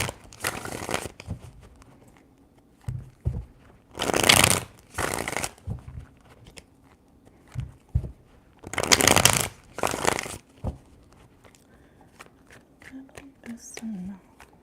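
Tarot cards being shuffled, three bursts of riffling and sliding card stock with softer handling noises between them, close and crisp, while someone speaks quietly in the gaps.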